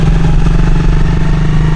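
A Yamaha Mio scooter engine runs close by with a loud, steady low hum and a rapid metallic rattle pulsing through it, continuous and without talk.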